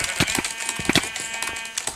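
Blocky Minecraft sheep bleat in quick, repeated electronic bursts during a game, several overlapping calls sounding near and fairly loud, with no speech.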